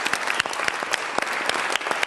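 A studio audience claps steadily throughout a quiz game show segment, a dense wash of many hands with scattered sharper individual claps standing out.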